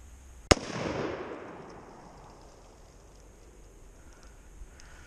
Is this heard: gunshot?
yes